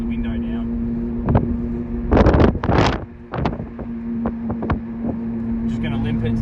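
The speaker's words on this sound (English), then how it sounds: "Something doesn't sound right. Sounds like a really loud wheel bearing." A Ford Falcon EA, an old car saved from scrap, drives with its window down, carrying a steady low road drone with a loud rough wheel-bearing rumble. Irregular wind buffets and bumps break through the drone.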